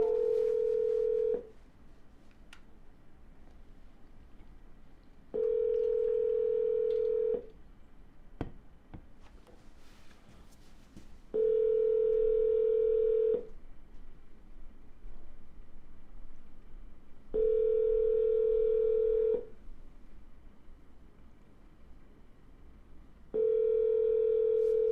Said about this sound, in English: We're going to double dial